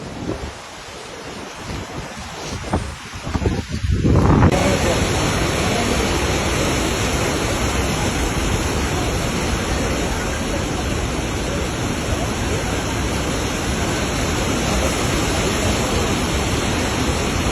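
A flooded river rushes past in a loud, unbroken roar of churning water, heard steadily after a few seconds of quieter handling noise.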